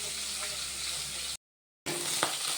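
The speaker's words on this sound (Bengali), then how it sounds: "আমি এখানে মাছ ভাজা শুরু করে দিয়েছি।" Fish frying in hot oil in a kadai, giving a steady broadband sizzle throughout, with a short silent gap partway and a faint clink near the end.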